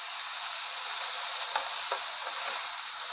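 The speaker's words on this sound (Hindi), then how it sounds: "और ये हमने सब्जी कट कर ली है, सब्जी को भी डाल देंगे। सब्जी को चला लेंगे," Chopped vegetables sizzle loudly in a hot pan for a roti noodles dish. A continuous close hiss of frying carries a couple of faint scraping stirs, with no talking.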